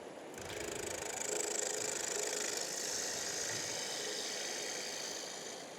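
A wood lathe turning a natural-edge piece, spun up to a higher speed, gives a steady whirring hum with a faint rattle that holds even throughout.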